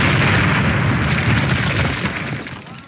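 A large explosion in the PC game Call of Duty (2003) at a training camp, a loud, sustained rumbling blast with debris crackle that holds for a couple of seconds before slowly fading.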